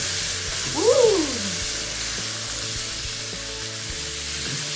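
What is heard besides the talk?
potatoes sizzling in a pan while being stirred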